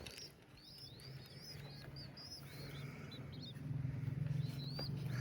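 Pigeons calling outdoors at a home loft, with a steady low coo-like murmur and scattered higher chirps over continuous background noise, rising slightly in loudness toward the end.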